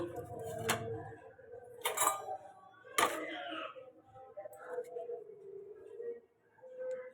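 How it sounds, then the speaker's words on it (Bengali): Plates and bowls picked up after a home meal, heard as a few sharp clinks and clatters of dishware with someone talking between them. "প্লেটগুলো এখান থেকে নিয়ে নিই প্লেট বাটি"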